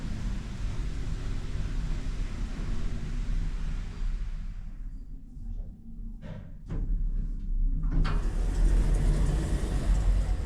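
A KOLMAN ELQ passenger elevator running in a residential building, a low steady rumbling hum that dips quieter midway, with a few brief clicks and thumps before the motor noise swells back up.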